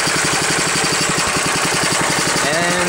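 A small homemade generator engine idling loudly and close, a steady rapid chugging pulse with a constant rattling hum throughout.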